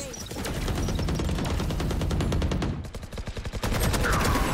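Gunfire in the Valorant video game rings out as rapid, repeated shots in sustained bursts that briefly thin out and then resume, loud and continuous, with faint voices underneath.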